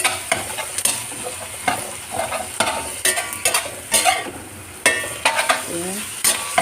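Ground beef mince frying in a pan, sizzling steadily up close while a utensil stirs and scrapes it in repeated strokes.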